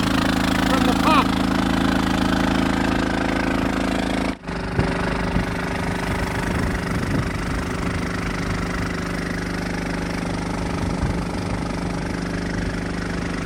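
A small firefighting pump engine runs flat out, a loud, steady mid-pitched drone with a brief dip partway through before it settles back to a constant roar, with a voice talking over it.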